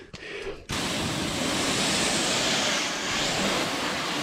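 Steady broadband spray of a hose rinsing Turtle Wax Dry & Shine rinse wax off a car's paint, starting abruptly after a brief quiet moment and continuing loud and close without pause.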